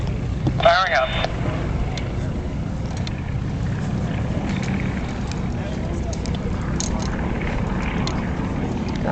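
Aircraft engines running at an air show demonstration, a steady, broad roar with low rumble that fills the scene throughout, while a voice talks briefly near the start.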